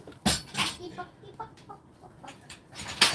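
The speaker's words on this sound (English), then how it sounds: "I'm gonna watch this chicken." A chicken clucks in a few short, irregular bursts, fairly close, with faint background noise between calls.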